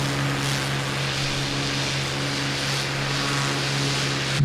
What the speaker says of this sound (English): Now we are maximum throttle there